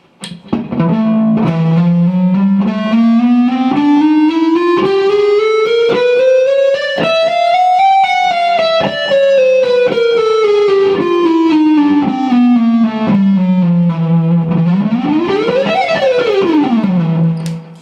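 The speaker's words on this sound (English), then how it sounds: "A lot of guitar players practice this as a warm-up exercise." Overdriven electric guitar runs a steady chromatic pattern climbing up the neck and back down, note by note in even rhythm, loud and alone.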